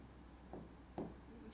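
A maths question being written out: a few soft, faint scratching strokes in short bursts, with a quiet voice underneath.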